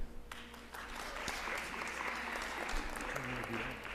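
Audience at a school district meeting clapping for staff members, a moderate, steady patter of hands under a faint room murmur.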